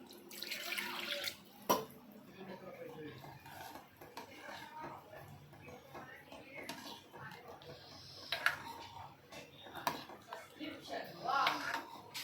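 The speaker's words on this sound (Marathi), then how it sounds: "त्याच्यात थोडं पाणी टाकून घेऊया आपण" Water splashes into a metal pot holding lentils and drumsticks in short pours, with clinks of utensils and occasional voices talking quietly in the background.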